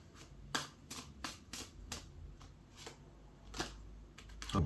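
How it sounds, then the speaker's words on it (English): A thick deck of tarot cards is shuffled by hand in a quiet room, with a series of sharp, crisp riffle bursts and softer slides spaced irregularly across a few seconds. "This is quite a hard deck to shuffle."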